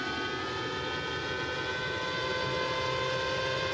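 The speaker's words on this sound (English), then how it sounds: "You can hear he's flat here on the entry of 1, then feathers the throttle a little bit, rolls the throttle back on." A 2001 IndyCar engine at full throttle on corner entry in a race in Japan, then briefly feathered and rolled back on, a dense steady high-pitched whine holding loud throughout.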